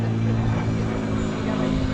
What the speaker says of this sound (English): tiny little aeroplane going over,